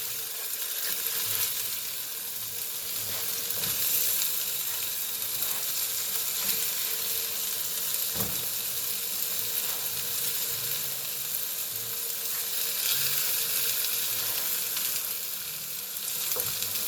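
Salisbury steak patties frying in a pan give off a steady, close, loud sizzle that crackles and pops without letup for the whole stretch, with no talking over it.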